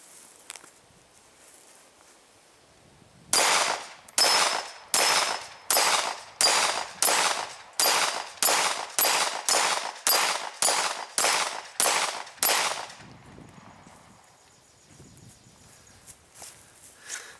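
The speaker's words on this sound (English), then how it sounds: "start out with is 115 grain full metal jacket out of this Glock 19" About sixteen evenly spaced shots ring out from a Glock 19 firing 115 grain 9mm full metal jacket rounds at a 10-inch AR500 steel gong. Each loud crack carries a metallic ring, with quieter moments before and after the string.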